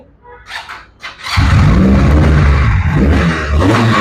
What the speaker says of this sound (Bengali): তো বন্ধুরা, আমরা একটু বাইকের সাউন্ড শুনি